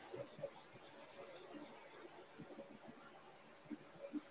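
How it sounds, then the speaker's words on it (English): Crickets chirp faintly in short, repeated high trills throughout, with soft background noise and scattered quiet sounds beneath. "Why do I keep hearing crickets?"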